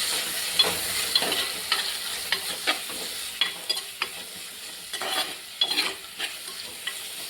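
Tomato stirred into a frying curry, with a spoon scraping and clacking against the pan in irregular strokes over a steady close sizzle.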